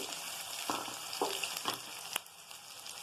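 Ginger-garlic paste and onions frying in hot oil for a drumstick and egg curry, a steady close hiss with a few soft scraping stirs and one sharp clink near the end.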